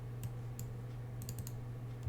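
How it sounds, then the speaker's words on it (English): Someone types on a computer keyboard during a tabletop war game session, a few scattered key clicks over a steady low electrical hum, with no talking. "Also, why are you typing that in?"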